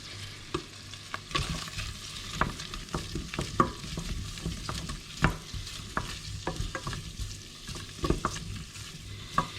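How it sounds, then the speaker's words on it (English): Onions frying in a pan for cream of mushroom soup, sizzling steadily while a utensil stirs and scrapes them in repeated sharp clicks and knocks, close and clear, with no talking. "once these onions start to cook down a little bit, I will add the anchovies"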